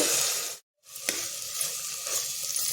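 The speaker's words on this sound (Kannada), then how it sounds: "ಅಕ್ಕಿನ ಒಂದು ಸುತ್ತು ಹುರ್ಕೋಬೇಕು" Washed and drained rice sizzles steadily as it is stirred and fried in a pan for vegetable pulao, a continuous close crackle broken by a brief silence and a light scrape of the spoon.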